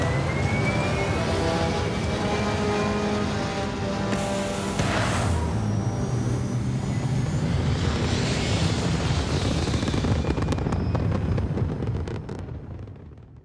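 Spaceship takeoff in the video game Starfield: a loud, sustained roaring rumble with rising whooshing tones and steady engine thrust, swelling midway and fading out at the end, with no talk.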